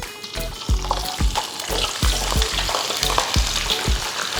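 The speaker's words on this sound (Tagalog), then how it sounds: "ipiprito na natin itong ating Pinoy style fried chicken" Pinoy-style fried chicken lowered skin side down into hot oil, crackling and sizzling loudly and steadily, with recurring bursts of bubbling spatter and no talking.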